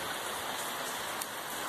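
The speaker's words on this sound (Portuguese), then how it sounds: "dia chuvoso aqui em Pernambuco" Steady rain falls on a rainy day in Pernambuco, Brazil, a constant even hiss of drops on surfaces with no talking.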